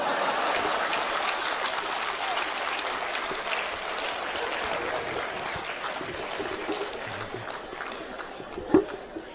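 An audience at a comic Hindi poetry recital claps steadily in a dense, moderately loud patter that runs for about nine seconds, thinning slightly near the end, with a brief louder thump and faint voices underneath.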